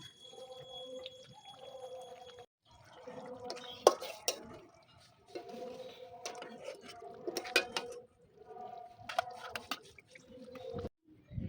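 Cooked chicken chaap is tipped out of a pan with intermittent metallic scrapes, clanks and squeaky spatula scraping against the pan, coming in short bursts separated by brief pauses, close and moderately quiet, with no speech.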